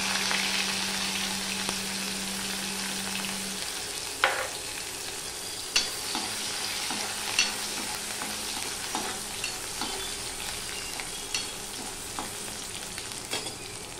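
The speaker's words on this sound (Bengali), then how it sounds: "এবার আমি এখানে একটা রসুন থেতো করে রেখেছিলাম ছাড়িয়ে, সেই রসুনটা আমি দিয়ে দিলাম।" Crushed garlic frying in hot oil with a five-spice tempering for a dal makes a continuous gentle sizzle, punctuated by regular stirring clinks and scrapes. A brief hum sounds early on, and nobody speaks.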